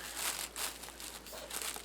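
Newspaper or thin plastic bags are crumpled by hand at close range for a Christmas gnome craft, producing repeated bursts of crinkling over about two seconds.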